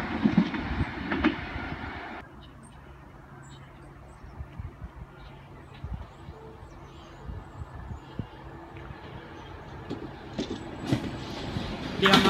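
Two rare trains run past Hampden Park station, heard as a steady rolling rumble with faint rail clatter that swells at the start and again near the end, fairly near and mostly without talk.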